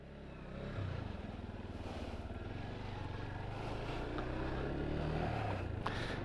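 A SINNIS Akuma 125 motorcycle cruises along a road, its small engine droning steadily with low rumble and wind rush, fairly loud and continuous throughout with no talk.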